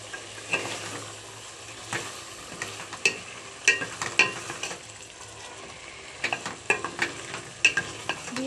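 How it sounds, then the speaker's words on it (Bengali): Vegetables, including tomato and peas, sizzle in a pan while a utensil scrapes and clacks against it in irregular bursts, close and moderately loud, with no talking. "সবগুলো ভালো করে কষানো হয়ে গেছে"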